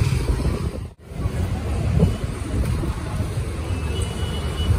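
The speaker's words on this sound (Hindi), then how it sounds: "हवा चल रही है" Wind roars and buffets steadily outdoors at a village kabaddi tournament in Punjab during light rain, a dense low rumble that dips briefly near the start and then continues loud.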